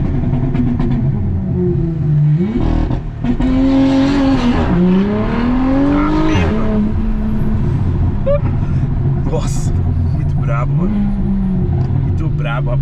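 A loud Porsche Panamera exhaust revs and climbs on launch, rising engine notes crackling with pops, while people talk excitedly over it.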